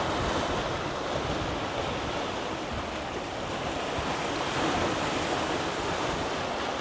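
Large Atlantic ocean waves make a continuous, loud, broadband rush of surf and wind, steady throughout with a slight swell near the end and no voices.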